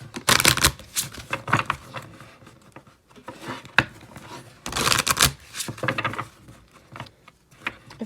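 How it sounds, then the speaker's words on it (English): Bursts of Lenormand cards being shuffled, crisp riffling flutters in several rapid runs separated by brief pauses, close and fairly loud. "Let's shuffle these bad boys up."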